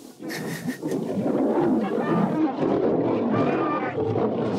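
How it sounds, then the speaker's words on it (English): Lions brawling in the 1981 film Roar, loud overlapping roars and snarling growls that run continuously with screeching cries mixed in. "brawling lions, screaming."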